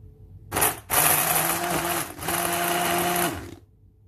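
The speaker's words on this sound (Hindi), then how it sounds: "अब इसके बाद हमारे पास हैंड ब्लेंडर है जिससे हम इसका इस्तेमाल करेंगे" A hand blender whirs through an apple and banana smoothie in a loud, steady motorized drone that starts with a brief burst, settles into several seconds of continuous blending and then cuts off.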